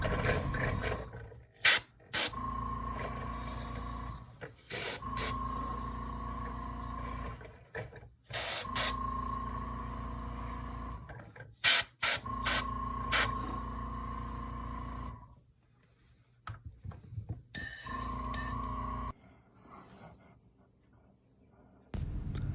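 A spray can applies primer to a miniature model in repeated short hissing bursts, each a second or two long, with a constant hum of a fan or extractor running in the gaps.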